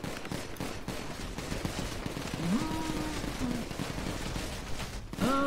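Gunfire in a roleplay shooter crackles as repeated, fairly distant bursts of shots at a low level, with voices talking and calling over the exchange.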